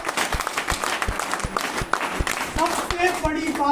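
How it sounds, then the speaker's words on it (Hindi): Audience applause during a motivational speech event in a hall, a steady patter of clapping hands running throughout with some crowd noise, rising slightly toward the end. "एक बार जबरदस्त तालियां ताली"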